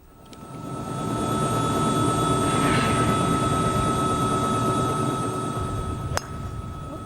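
A helicopter flies overhead above the planned HS2 high-speed railway route between Birmingham and Nottingham, a steady loud rotor and engine roar that swells in and holds throughout, with a brief click near the end.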